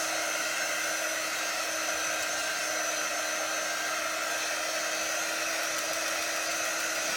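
A heat dryer runs steadily while drying paint on a rustic round craft piece, a constant close whirring blow with a faint electric hum underneath, continuous for the whole stretch with no talking.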